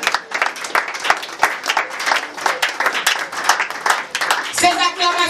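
A church congregation at a Bible seminar closing claps in uneven, sharp bursts amid cheering voices, fairly close, ending with a voice rising over the crowd.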